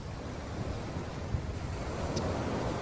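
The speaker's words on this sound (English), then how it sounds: "sitting at this beach in the eastern state of Kelantan in with a great view for everyone to see, and some soothing ocean sounds" Soothing ocean surf at a beach in Kelantan on Malaysia's east coast: a steady, continuous wash of waves with some wind noise, moderately loud and alone with no voices.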